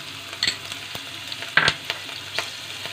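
Ginger, garlic and green chilli frying in hot oil, a low steady sizzle broken by a few sharp spatula scrapes and taps, one clearly louder near the middle, heard up close with no talking.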